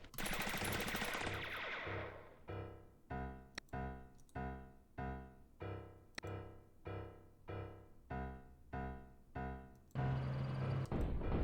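Repeated bursts of machine-gun fire trade back and forth in a wargame strategy roguelike video game, about ten evenly spaced loud rattling volleys after a dense opening blast, ending in a sustained roar.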